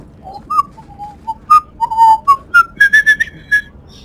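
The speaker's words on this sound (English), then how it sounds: "I'm not drunk enough yet, I can't whistle properly." A person whistles a short, wavering tune of rising and falling notes, loud and close, with no other sound around it.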